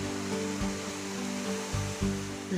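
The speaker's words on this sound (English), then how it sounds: "it also has a waterfall called Milomeris" The Milomeris waterfall on the Kaledonia nature trail in Cyprus gives a continuous broadband rush of falling water, steady and fairly close, with a few low thumps and no voices.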